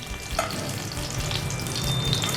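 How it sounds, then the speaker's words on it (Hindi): Brinjal pieces fry in hot oil in a pan for a Hyderabadi bagara baingan curry, giving a steady close crackling sizzle with a few soft pops and no talking. "बिल्कुल परफेक्ट हमारे बैगन फ्राई हुए यहाँ पर।"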